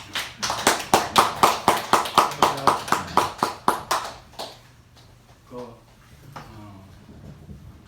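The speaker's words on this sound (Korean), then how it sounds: "애청에 계신 분들에게 박수 한번 보내주시면 감사하겠습니다" Applause at a political talk about impeachment: about sixteen crisp claps in a steady, even rhythm ring out close and clear, then fade as a voice begins speaking over quiet room noise.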